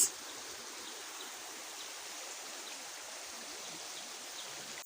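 River water flows steadily beside a nature walk at Oloolua, a continuous even rushing hiss with no breaks and no voices.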